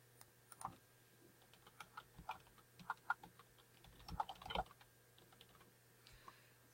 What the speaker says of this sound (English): Now, on a website, I can go ahead and type in what it is I'm looking for.